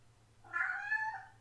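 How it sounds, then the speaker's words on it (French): A pet cat gives one clear, drawn-out meow, rising and then falling, close by and alone over a faint low hum in a quiet room. "Je ne sais pas si vous l'avez entendu miauler"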